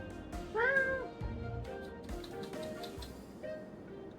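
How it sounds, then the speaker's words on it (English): A house cat meows several times in the background during an Elden Ring session, a few drawn-out cries of moderate loudness over faint ticking and game ambience. "I heard one of my cats meowing in the background."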